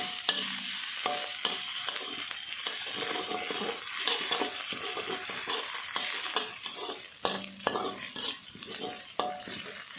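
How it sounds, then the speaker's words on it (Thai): Thai curry paste stir-fried in a pan, oily sizzling under repeated scraping and clinking strokes of a spatula against the metal, rhythmic and close. "ผัดเครื่องแกงให้สุกดีค่ะ"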